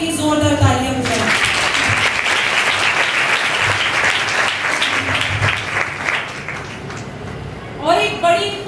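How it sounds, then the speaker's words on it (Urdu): A church congregation applauds for mothers at a Mother's Day Sunday service, steady clapping filling the room for several seconds between stretches of a voice speaking. "آئے ہم ماں کے لیے زوردار تالیاں بجائیں."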